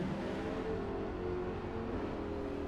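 Audi R8 engine in Forza Motorsport, GT class racing at Yas Marina through an underground pit section, a steady loud droning hum at sustained speed with no voices.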